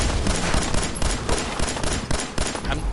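Loud rapid gunfire in Fallout 4, with automatic bursts and repeated sharp shots packed close together in a chaotic firefight.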